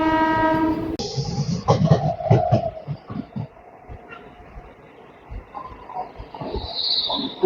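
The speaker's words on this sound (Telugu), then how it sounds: "హుబ్లీ నర్సాపూర్ అమరావతి ఎక్స్ప్రెస్" The Hubli–Narsapur Amaravati Express passes close by. A loud horn blast opens, then heavy clattering of coaches and wheels fades to a quieter rolling rumble.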